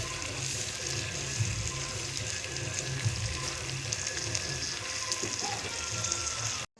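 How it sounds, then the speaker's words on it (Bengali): Fried meat for biryani simmering in a pot after water is added, a steady close bubbling and sizzling hiss that carries on evenly for several seconds, with no voices. "দেখো বন্ধুরা, হালকা করে জল দিয়ে একটু ফুটিয়ে নিচ্ছি"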